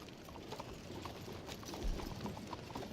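Horse hooves clip-clop in a steady rhythm in the video game Red Dead Online, a soft repeated trotting patter under a constant background hum.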